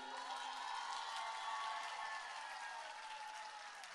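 Women in the crowd at an outdoor political rally in Adana applaud in a sustained, even wash of clapping with faint cheers, heard from a distance and fairly quiet.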